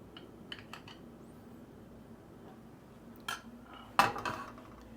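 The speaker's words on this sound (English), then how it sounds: "I'm going to take a spoon of rice" A metal spoon scoops cooked rice onto a plate of shrimp Creole, giving faint scrapes early on, a soft clink, then a sharper clatter and scrape near the end, close-up in a quiet kitchen.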